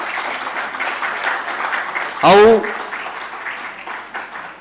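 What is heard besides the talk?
audience applause for the play's actor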